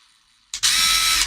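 A cordless 12 volt lithium-ion impact driver with a 2 amp-hour battery: a brief click, then a steady, loud whirring drive that runs about half a second before cutting off, heard up close.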